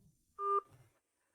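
A brief telephone dialing tone sounds once, a short steady two-pitch electronic beep, clear and near, followed by faint low rumble and near-silence.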